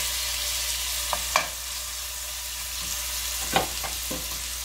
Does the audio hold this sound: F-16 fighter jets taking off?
no